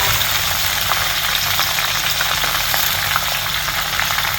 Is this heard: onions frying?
yes